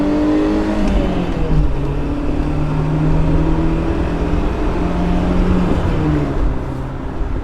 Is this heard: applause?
no